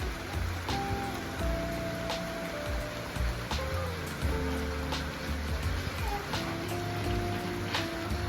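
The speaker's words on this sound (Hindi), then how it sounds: "बारिश एकदम मजे से हो रही है" Steady rain patters on a surface with scattered drips, while music or a voice plays faintly underneath throughout.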